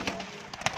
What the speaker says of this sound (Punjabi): ਇਹ ਕਬੂਤਰ ਹੋ ਗਿਆ